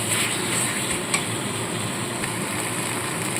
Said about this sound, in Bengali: এইভাবে ঢাকা চাপা দিয়ে দিয়ে মশলাটা সামানে কষিয়ে নিচ্ছি